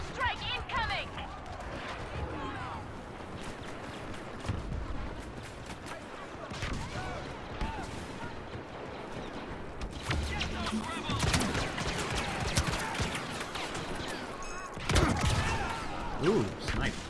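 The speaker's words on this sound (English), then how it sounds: "Orbital strike incoming!" Orbital strike raining down in Star Wars Battlefront, a dense barrage of blasts and gunfire-like bursts that swells loudest near the end, with battle noise and a voice talking throughout.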